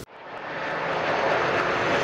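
Fixed-wing airplane landing at Rzeszów airport in Poland, its engine roar building steadily from quiet to a loud, broad sustained rumble over two seconds, with no voices.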